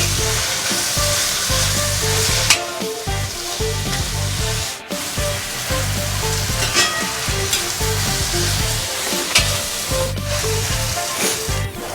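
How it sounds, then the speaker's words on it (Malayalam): Slit green chillies and chopped medium tomato frying and being stirred in a pan, a loud continuous sizzle with repeated scraping strokes of a spoon against the pan, no talking. "അതിൽ പച്ചമുളക് നെടുകെ കീറിയിട്ടു. ഒരു മീഡിയം സൈസ് തക്കാളിയും കൂടെ അരിഞ്ഞ് ചേർത്തു."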